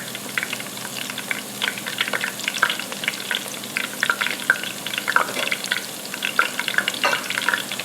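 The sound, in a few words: battered onion rings frying in oil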